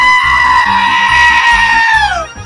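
A goat bleats once, long and loud with a wavering tone and a falling end, over rhythmic music in a promo for a Greek Karagiozis shadow-puppet movie.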